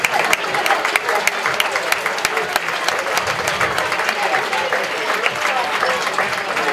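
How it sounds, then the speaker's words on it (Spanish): Loud, sustained applause from an audience at a youth sports club team presentation, dense steady clapping with sharp individual claps and crowd noise running throughout, no talk over it. "ese fuerte aplauso para ellos"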